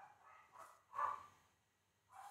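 A dog barks from inside a room, a few separate yelps spaced out and not very loud, with quiet stretches between them.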